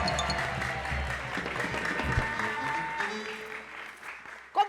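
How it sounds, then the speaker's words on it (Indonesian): A studio audience applauds a guest dressed as the Hulk at a reunion of TV heroes and characters, a sustained burst of clapping over lively background music that fades near the end. "Yang pertama, tepuk tangan buat Hulk."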